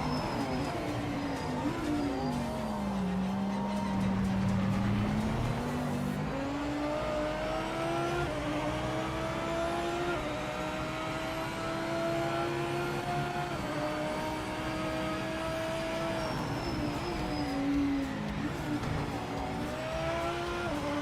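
A BMW race car in the Project Motor Racing sim, its engine droning steadily with pitch rising and falling through gear changes as it laps Zolder, loud and continuous with no talk.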